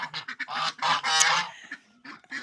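Mulard ducks honk and quack in a rapid, close chorus of raspy calls, several birds overlapping in short bursts.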